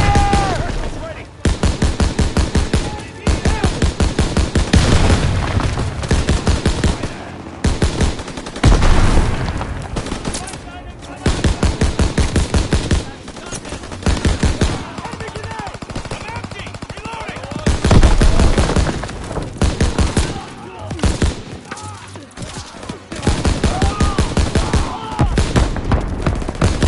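Dense, continuous WW2 video game battle gunfire in the Death Factory campaign, with rapid machine-gun bursts and rifle shots cracking close and loud almost without pause, plus occasional heavier booms, with shouted voices mixed in.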